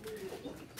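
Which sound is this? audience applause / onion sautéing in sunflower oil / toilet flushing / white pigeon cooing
white pigeon cooing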